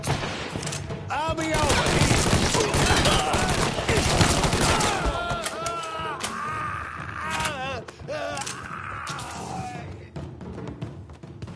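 Gunfire in the video game Mafia III rattles in dense, loud bursts for the first half, then thins to scattered shots, with voices talking over the fighting throughout.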